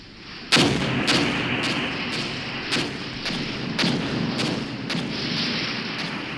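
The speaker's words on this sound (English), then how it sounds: "Let's see how our artillery strike does." Artillery strike in the Armored Brigade war game, with a loud opening blast followed by about a dozen rolling booms at irregular intervals over a continuous rumbling bed of distant fire.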